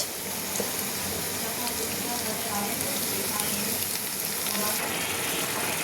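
Onions and potatoes frying in oil with ginger and garlic, a steady close crackling sizzle with faint stirring, and no break in the hiss.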